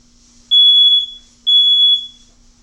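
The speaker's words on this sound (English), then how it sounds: "This is the first alert test of the 7010B6." A First Alert 7010B6 smoke detector sounding its test alarm: two loud, piercing, shrill beeps, each about half a second long, separated by a short silence, over a faint background hum.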